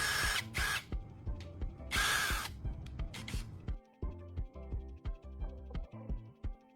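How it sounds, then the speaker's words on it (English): A power drill spins a graphite rod in its chuck while it is sharpened with sandpaper: two loud whirring bursts of scraping abrasion, then a series of short rhythmic drill pulses and clicks, close and alone. "I'm inserting the graphite rod into the drill chuck and shaping its tip into a fine, sharp point."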